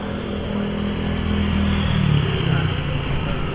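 A motorcycle engine revving on a ride in Mauban, Quezon, a steady close drone that swells louder midway and then settles, with faint background noise.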